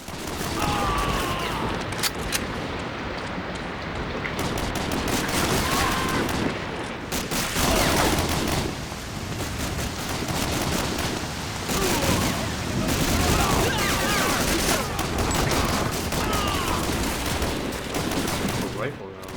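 Dense, continuous gunfire in the Medal of Honor Warchest video game, with rapid overlapping shots, shotgun blasts among them, loud and unbroken for the whole stretch, with voices under the din.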